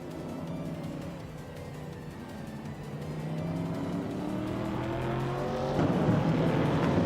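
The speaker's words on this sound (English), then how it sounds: "Queen Manda is driving a 1969 AMC Javelin, and she's currently in 4th place." Vintage Trans Am race cars, among them a 1969 AMC Javelin, run steadily at speed with engines droning and revving. The sound builds in the second half as a car passes close by.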